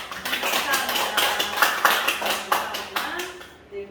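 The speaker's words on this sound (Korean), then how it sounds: "우리 주님께 영광의 박수 올려드릴까요?" Members of a church congregation clap together during a Sunday worship service, brisk, fairly close handclaps in a quick, uneven patter that tapers off after a few seconds.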